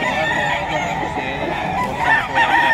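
Boston white-legged fighting rooster at a crowded predawn pet market in Bocaue, Bulacan, giving a short, close, harsh crowing and clucking call over a dense market din.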